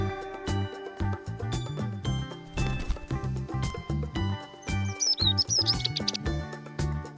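Birds chirp and tweet in quick high bursts, most clearly near the end, over a bouncy melodic music backing that runs throughout.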